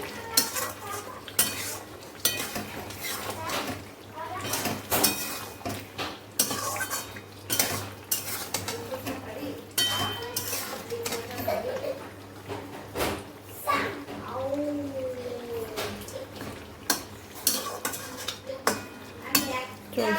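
Mutton being stir-fried kosha-style in a home kitchen, with repeated metal spoon scrapes and clanks against the pan over a low sizzle, while people talk in the background.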